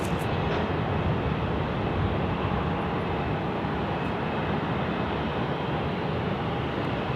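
An airliner lands on runway 16 right at Sydney Airport, a steady, loud engine rumble and rushing roar that holds evenly throughout with no voices.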